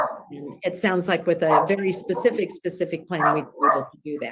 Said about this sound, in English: Sorry for my barking dog in my backyard.